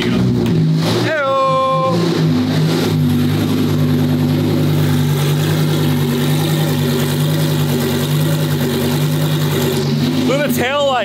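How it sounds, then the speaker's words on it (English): A Lamborghini Evo 2 race car engine cranks, catches and settles into a loud, steady idle with a blip of revs near the end, heard up close with people talking over it. "Okay, now the ignition is on. Now try to hit start."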